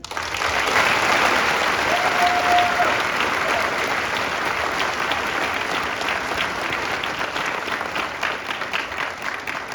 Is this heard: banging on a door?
no